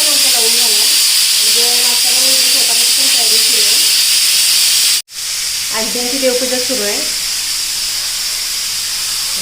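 Loud, continuous hiss of steam from a pressure cooker runs throughout, with people talking over it.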